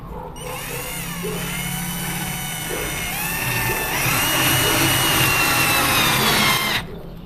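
BONCHI 28 V two-mode cordless drill driving a screw into wood, a steady whining motor hum that rises and strains partway through, then cuts off near the end, loud and close with no talking.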